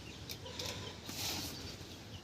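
Chickens in a home vegetable garden in Bangalore make soft, scattered clucks and rustling over a steady outdoor background, fairly faint and close, with no talking.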